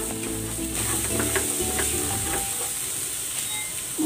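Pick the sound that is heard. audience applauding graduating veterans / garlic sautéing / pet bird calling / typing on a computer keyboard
garlic sautéing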